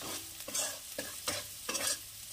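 Sambar masala is stirred into split pea dal in a pan, a soft scraping swish repeating about every half second over a low simmering hiss, fairly quiet and with no talk.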